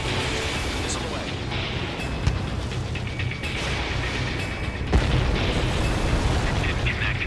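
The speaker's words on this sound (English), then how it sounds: "Missile away." Missile launch and explosion in the jet combat game Ace Combat 7, a dense roaring engine-like wash with a thump and a sharper boom partway through, under radio chatter.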